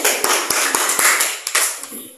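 A small group of students in a classroom claps, giving a short burst of sharp, separate hand claps at an uneven rhythm that thins out and fades after about two seconds.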